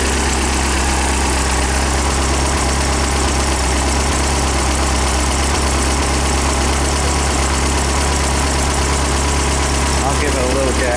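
An engine idles at just over 1,000 rpm, a loud, close, steady low rumble with a constant throb that holds unchanged throughout.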